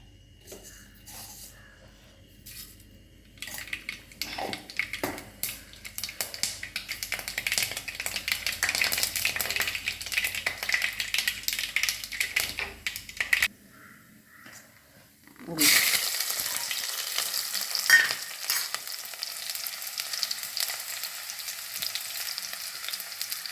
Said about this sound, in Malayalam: ചട്ടിയിൽ ഇനി കടുക് ഇട്ട് കൊടുക്കുക.